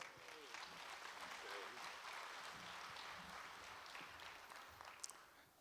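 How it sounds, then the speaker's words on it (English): Audience applause at a tribal public health conference sounds faint and distant, a soft sustained clapping with a few voices and whoops over it. "So everybody give a big round of applause to Mr. Nicholas Barton."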